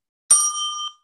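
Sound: bell dinging as a time signal

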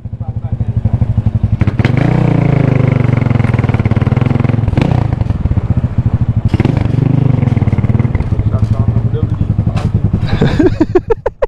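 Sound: motorcycles revving engines on street

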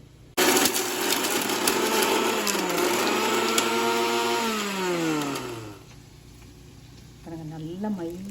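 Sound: blender grinding green chilies and ingredients into paste

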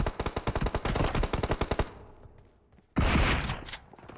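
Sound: gunfire in video game PUBG Mobile

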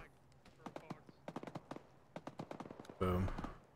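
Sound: gunfire in a military shooter video game

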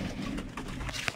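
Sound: turtle dove cooing, white and grey dove hybrid

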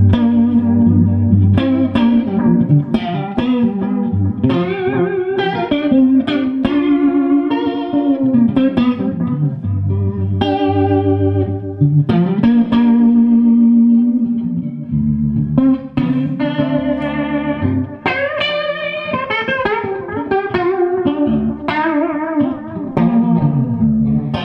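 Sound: Maxon PAC-9 chorus pedal on guitar, speed turned up

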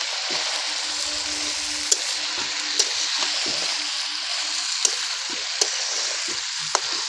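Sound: desi chicken curry cooking covered in a pan

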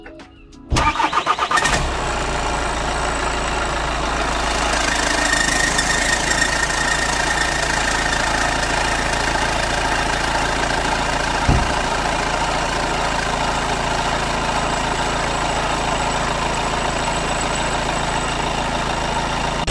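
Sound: Seat Alhambra 2016 engine idling with squeaky noise

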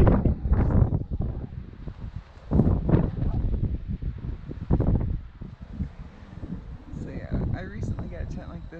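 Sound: strong wind blowing at campsite

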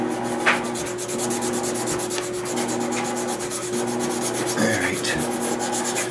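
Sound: sanding a bass guitar neck by hand with 220 grit sandpaper

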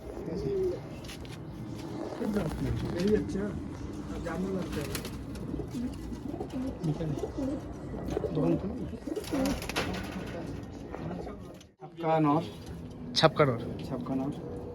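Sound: pigeons cooing

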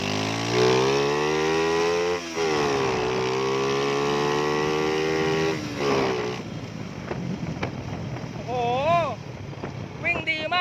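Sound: motorcycle engine revving after carburetor tuning

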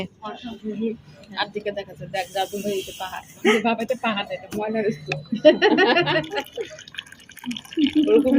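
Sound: coffee poured from a steel flask

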